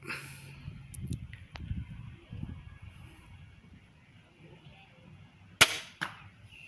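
A Cobra System R9 crossbow is shot outdoors: after a stretch of low wind and handling noise, a single sharp snap of release sounds near the end, with a quieter click just after.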